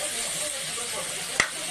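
Sliced bottle gourd (upo) with dried anchovies and tomato sautéed in a pan, a steady soft sizzle with light stirring scrapes and one sharp utensil clack near the end.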